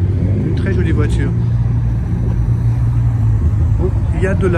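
Deep, steady rumble of a heavily tuned Chevrolet idling nearby at an outdoor car gathering on Place Vauban, continuous under someone talking.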